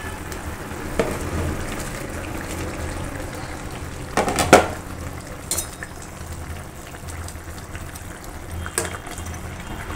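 Fish frying in a pan for a fish and eggplant curry, a steady low sizzle running throughout with a few louder stirring or spattering bursts midway and near the end, no talking.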